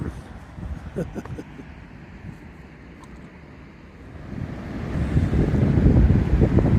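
Sea waves wash below a rocky outcrop at Duckpool on the Cornish coast, a steady roar that swells louder toward the end, mixed with wind buffeting the microphone.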